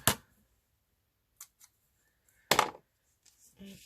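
Two crisp scissor snips cutting through a cord during a sewing craft project, each a sharp close cut separated by a pause, with small handling noises between them.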